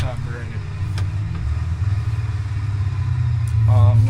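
Low, buzzing van engine without an exhaust in BeamNG, droning steadily and growing louder toward the end, with someone talking over it at times.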